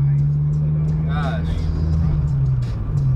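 A truck rumbles along a road nearby, its low steady engine drone holding throughout, with a man's brief exclamation over it.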